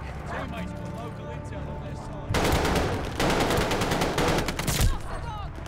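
Rapid automatic gunfire bursts from Call of Duty Vanguard, with a sustained loud stretch of fast repeated shots after a quieter start, mixed over game sounds.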